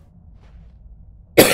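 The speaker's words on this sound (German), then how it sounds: "es tut mir leid, dass ich immer husten muss, aber ich bin noch so erkältet" Someone with a cold gives a sudden loud cough at the end after near silence, close to the microphone and harsh.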